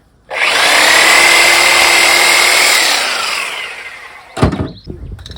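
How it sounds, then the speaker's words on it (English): A sawzall reciprocating saw powered from a truck cuts through a slaughtered sheep carcass, a loud, close, continuous buzzing whine for about three seconds that fades, then a few sharp handling knocks. "I'm going to use the sawzall on this one."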